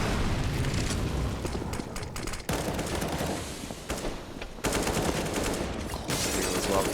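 Rapid bursts of automatic gunfire and shots crackle from a Counter-Strike: Global Offensive match between Immortals and Liquid on the map Train at ESL One Cologne 2017, continuous and fairly loud, with faint commentary underneath.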